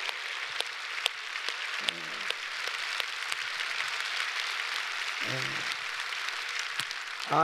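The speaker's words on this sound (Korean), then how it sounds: "네, 우리 박수로" Korean church congregation applauds during Sunday worship, a steady wash of clapping held at a moderate, even level throughout, with brief low voices breaking through twice.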